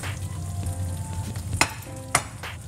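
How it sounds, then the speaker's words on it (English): Paneer butter masala, with garam masala, crushed kasuri methi and coriander leaves, sizzles loudly in a pan, a close, steady frying hiss broken by two sharp knocks of a utensil against the pan. "Saute it."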